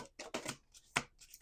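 A deck of playing cards being shuffled at a table: a few quick riffling bursts close by, separated by short pauses, with a final crisp riffle at the end, no talking.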